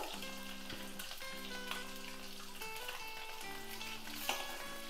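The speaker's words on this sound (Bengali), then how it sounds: "ডিমটা একটু লাল লাল করে ভাজবো।" Eggs frying in hot oil for a Bengali cauliflower egg curry, a steady dense sizzle with faint scraping stirs and a couple of brief clinks, with no voice.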